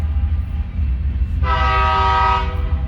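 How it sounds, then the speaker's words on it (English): A train passes near a Ford tractor rebuild, its low rumble rolling steadily throughout as the horn sounds once, a loud harmonic blast held for about a second before fading away. "Train."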